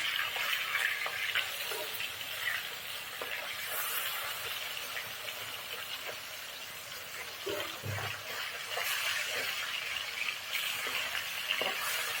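Fish frying in oil in a pan, with a continuous hissing sizzle broken by a few soft knocks as the fish is turned.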